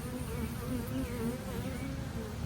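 A small swarm of honey bees hums at a steady, close drone, a low continuous buzz with faint wavering pitches and nothing else over it.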